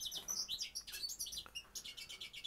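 A pet bullfinch kept indoors gives a rapid series of bright, high chirping calls, quiet and close, repeating in quick bursts with brief gaps.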